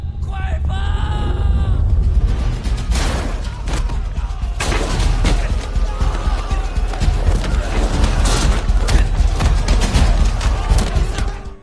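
A chaotic burst of rapid police gunshots cracks over shouting and screaming voices, with dense overlapping noise continuing loudly to the end.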